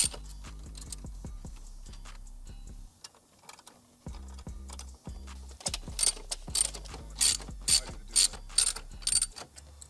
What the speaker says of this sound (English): I'm using a 6-inch 1/4-inch socket to remove it, and doing the top left corner.